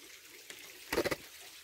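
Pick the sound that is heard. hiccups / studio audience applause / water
water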